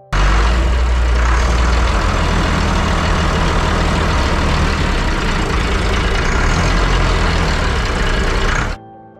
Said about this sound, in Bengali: ট্যুরে বেরোনোর পূর্বে বোটের স্টাফরা পুজো করে নিলেন এবং তারপরই সারেং চালু করলেন বোটের ইঞ্জিন।